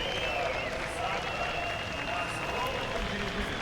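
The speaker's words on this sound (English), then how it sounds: "You can hear the fans supporting" Fans at a Russian Drift Series Grand Prix qualifying round in Sochi, cheering and clapping as a distant, steady crowd roar under a continuous drone, fairly faint with no break.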